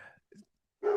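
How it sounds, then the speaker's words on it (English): A pet dog gives a few faint, short barks and yips in a quiet home room. The sounds come in brief separate bursts, with a slightly louder one at the end. "if you can hear my dogs"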